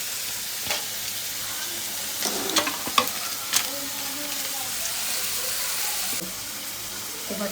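Coarsely chopped onion roasts in a pan with a soft, steady sizzle. A few sharper scrapes and clinks of stirring break in around the middle, and the sound stays fairly quiet throughout.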